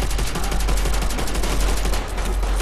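Dense, continuous automatic gunfire in the Call of Duty zombies map Nacht der Untoten, loud and close with rapid overlapping shots and no talk.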